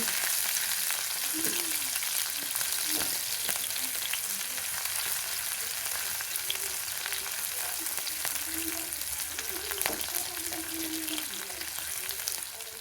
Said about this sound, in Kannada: ಈರುಳ್ಳಿ ಸ್ವಲ್ಪ ಹಸಿ ವಾಸನೆ ಹೋಗೋವರೆಗೂ ಫ್ರೈ ಮಾಡ್ಕೊಂಡ್ರೆ ಸಾಕು